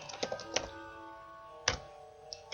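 A few scattered keystrokes on a computer keyboard while a name is typed in a dating-sim game, a short cluster of clicks followed by a pause and then a couple more taps, close and fairly quiet.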